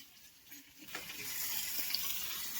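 Fish frying in masala, a local freshwater fish, gives a steady sizzle that starts quieter and thickens into a constant crackling hiss, with faint stirring clinks.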